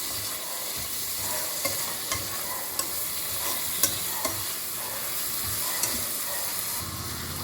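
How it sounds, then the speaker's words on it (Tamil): A tomato sautéing in a pan, a dense continuous sizzle with occasional light clicks of a spoon stirring it, steady and fairly close with no one talking. "இப்போது டொமேட்டோ போட்டுடுறோம்."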